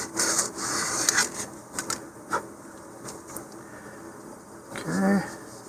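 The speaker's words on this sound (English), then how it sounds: "I'm just going to give a little bit of sanding right to that inside edge of the body tube" Sanding the inside edge of a cardboard body tube on an Estes Zinger model rocket: soft, irregular rasping strokes close by, broken by short pauses and light handling noises.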